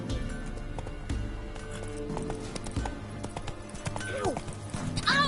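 Roach the horse galloping in The Witcher 3 video game, rhythmic clip-clop of hooves up close, with voices and a short whinny-like cry near the end.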